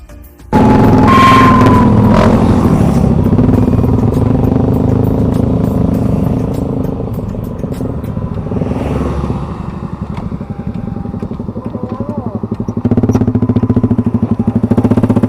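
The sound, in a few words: motorcycle exhaust revving with rapid backfire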